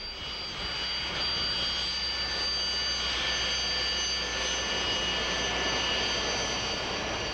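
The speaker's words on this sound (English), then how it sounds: "the true workhorse of the Russian Air Force is the Sukhoi 25" A Sukhoi Su-25 Frogfoot attack jet roars steadily and loudly with a high whining jet-engine tone, and the sound rises slightly after the opening.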